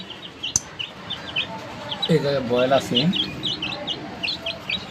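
Baby chicks peep in rapid high chirps throughout while someone speaks briefly close by in the middle, over a low background hum.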